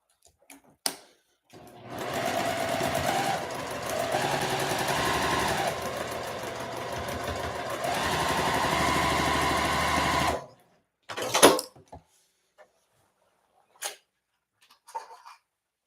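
A sewing machine stitches strips of a fencerail quilt in one long steady whirring run of about eight seconds, close and fairly loud, followed by a few scattered clicks and handling taps.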